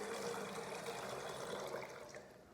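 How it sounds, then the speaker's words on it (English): Water pours steadily into a baptismal vessel during a church baptism, a continuous broadband splash and trickle that holds for a couple of seconds and then eases slightly, heard alone without talk. "I also like to pour water"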